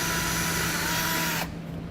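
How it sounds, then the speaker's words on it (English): A 1/4 inch drill bores into the centre of a pop rivet on a Jeep Cherokee base plate install, a loud steady whine grinding for about a second and a half before cutting off abruptly. "Now I'm going to be using a 1/4 inch drill. I'm going to be drilling right in the center of that rivet."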